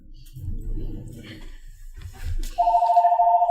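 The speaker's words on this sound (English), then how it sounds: "there's the phone" An office telephone begins ringing after brief low voices and shuffling, a clear, loud electronic tone that starts abruptly and holds steady to the end.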